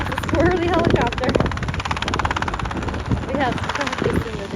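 A helicopter's rotor chops rhythmically with engine whine, close and loud, while people talk over it.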